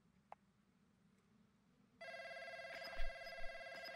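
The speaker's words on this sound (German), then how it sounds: "Das Telefon klingelt." Telephone ringing in the video game Warzone, a steady electronic multi-tone ring starting abruptly halfway through, loud and sustained with a few low thuds beneath it.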